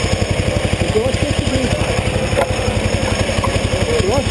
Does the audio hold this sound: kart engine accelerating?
yes